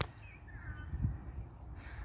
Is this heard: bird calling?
yes